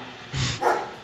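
A dog in the Minecraft video game lets out two short, close barks in quick succession, with no talk over them.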